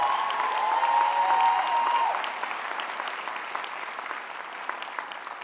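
Graduation ceremony crowd applauding for parents at a university commencement, a broad, dense wash of many hands with a few whistles and cheers early on, gradually thinning and fading over several seconds.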